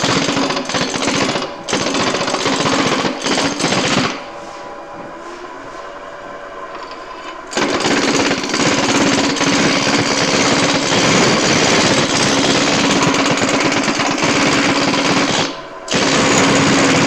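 A wood lathe spins a rolling pin blank of maple with a walnut center at top speed, a loud continuous whirring roar that stops briefly twice, then resumes.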